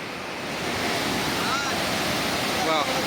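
Iruppu Falls in the Brahmagiri forest sends a steady, loud rush of falling water, a dense continuous roar with no pauses or voices.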